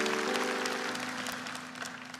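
Church congregation applauding during a worship service, dense steady clapping with a sustained tone beneath it in the first second, holding at an even level across the whole stretch.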